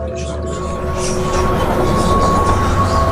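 A train running on rails through rural country for a horror story, a continuous rumbling roll with a faint steady whine on top, loud and close, with no talk.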